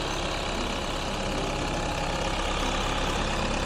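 A used excavator's diesel engine idles with a steady, even rumble and hum, constant and close, with no voices over it.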